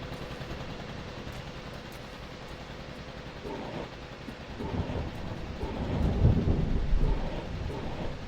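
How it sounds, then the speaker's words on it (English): Steady rain falls outside with deep rumbles of thunder building and rolling louder toward the end, no voices present. "Close these windows, keep that rain out."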